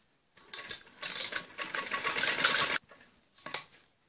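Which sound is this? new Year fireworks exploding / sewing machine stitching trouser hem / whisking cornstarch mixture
sewing machine stitching trouser hem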